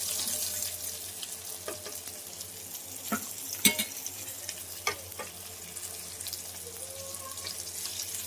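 Food frying in a pan on a home kitchen stove, a steady crackling hiss with a few sharp pops and clicks scattered through it, close by with no talking.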